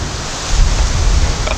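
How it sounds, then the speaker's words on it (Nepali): Wind gusts across the microphone on a hiking trail near the Mount Lofty summit above Adelaide. It makes a steady, close, rumbling buffet that swells a little midway, with no talking. "हावा चाहिँ लागिरहेको त्यो चाहिँ मिठो कुरा हो"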